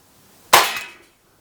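Single shot from an Umarex Glock 17 3rd Gen CO2 blowback BB pistol firing 5.1 grain steel BBs: one sharp, loud crack with a quick metallic ring and short decay, close by, with no talking.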